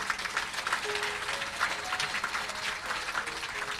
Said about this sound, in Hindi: और धीरे बजाओ थोड़ा ताली।